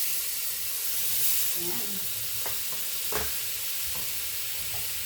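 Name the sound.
butter sizzling in a pan, sautéing garlic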